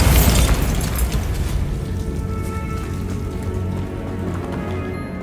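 A Bombarda spell blast goes off in the Hogwarts Legacy video game with a heavy low boom, then a long rumbling crackle that fades slowly.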